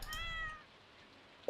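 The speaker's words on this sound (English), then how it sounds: "There's the cat." Cat in the farming video game Stardew Valley giving a single clear, close meow lasting about half a second, followed by quiet game background and a brief click at the end.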